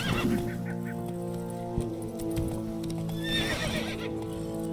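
A horse gallops in The Witcher 3 video game, rapid rhythmic hoofbeats with a neigh, over a steady game soundtrack.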